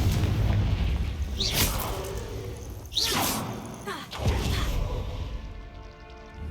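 Confringo fire spells burst in the video game Hogwarts Legacy, three whooshing blasts landing about a second and a half apart, each ending in a deep booming thud, with rumbling reverb trailing off after the last.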